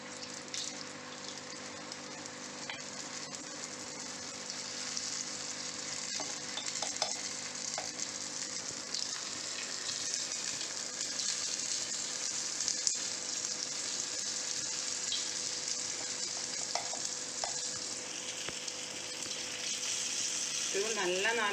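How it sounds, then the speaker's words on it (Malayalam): Paniyaram batter made from leftover idli-dosa batter frying in hot oil in an appam pan, a steady, even sizzle and crackle lasting throughout at moderate level, with faint incidental clicks and no talking. "ഇപ്പം എണ്ണ ചൂടായി. ഇപ്പം നമുക്ക് ഈ അപ്പക്കാരയിലോട്ട് കുറേശ്ശെ ഇത് ഒഴിച്ചു കൊടുക്കാം."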